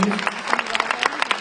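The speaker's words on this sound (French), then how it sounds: "On l'applaudit s'il vous plaît." An audience applauding at a live event, a steady dense patter of many hands clapping, fairly close and continuous for the whole moment with no one speaking over it.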